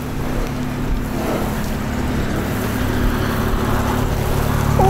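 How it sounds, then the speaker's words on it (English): A 2006 Infiniti G35 Coupe engine runs at a steady idle, with a deep, even exhaust rumble held close and constant throughout and no speech over it. "Always these things sound so healthy. Great exhaust note to them."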